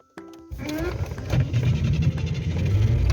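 A car engine rumbles steadily and grows louder as the car drives off from a stop, with voices talking over it at the start.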